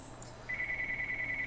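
A telephone rings with a sustained high electronic tone following a brief chirp, moderately loud over a quiet background.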